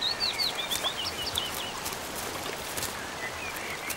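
Dippers give a quick run of thin, high chirps over the steady rushing hiss of a forest stream, and the calls fade after the first second or so.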